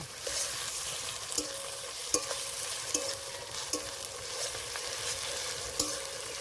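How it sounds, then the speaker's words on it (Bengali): Ginger and garlic paste frying in a pan for a jackfruit chicken curry, stirred with a spoon, a continuous sizzle with regular scraping strokes and occasional metal clinks, no voices. "এবার আদা রসুনটা দিয়ে কিছুক্ষণ নেড়ে নেব"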